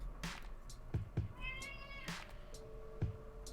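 A house cat meows close by, a drawn-out meow between soft knocks and rustles, with a second shorter cry after it.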